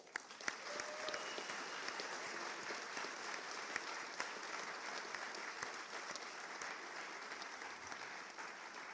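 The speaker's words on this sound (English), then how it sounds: "please give another big round of applause for all of our Q1 first families" A seated ceremony audience applauds to honor first families, a sustained, even wash of many hands clapping at moderate distance, fairly soft, continuing without pause or speech.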